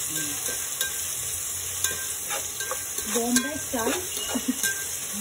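Ingredients for Bombay-style chicken biryani fry in a pan until golden, giving a steady sizzle with repeated scrapes and stirring clicks from a utensil, plus a few brief voice-like sounds in the mix.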